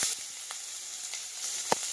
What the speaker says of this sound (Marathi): आता मी त्याच्यात कांदा ऍड करत आहे। 2 चम्मच तेल टाकणार आहे।